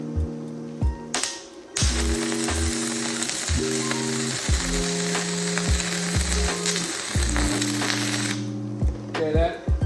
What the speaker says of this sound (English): We're gonna jump back to one of their rods and weld with one of their rods.